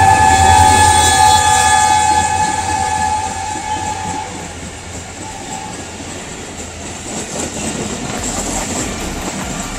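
Trains rumbling past a level crossing with a wireless gate, a locomotive's long horn tones ringing out over a steady heavy rolling roar and clatter of wagons, close and loud throughout.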